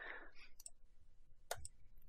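Computer mouse clicks while working in 3ds Max, a few sharp, isolated clicks spaced apart and quiet, with a brief breath of voice at the start.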